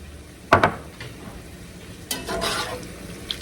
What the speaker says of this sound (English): we're going to add in our sauce. And we're going to let that cook about 5 minutes